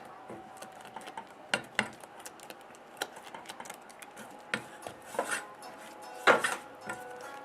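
Scrambled eggs being mixed in a pan, with scattered light clicks, taps and scrapes of the utensil against the pan at an irregular pace, close and quiet.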